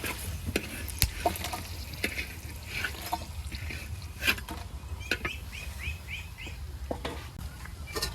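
Garlic fries and is stirred in oil in a pan, a quiet sizzle broken by scraping stirs and clinks, with birds chirping faintly in the background.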